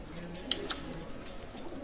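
Teddy pigeons in a loft give soft, low cooing that hums along continuously, close by, with a couple of brief sharper sounds partway through and no talking.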